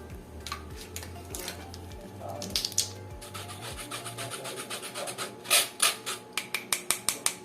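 Cocoa powder sifted through a mesh sieve for a chocolate jar cake, giving repeated soft rubbing and scraping strokes with light taps on the rim that quicken into a steady rhythm near the end, close and with no talk.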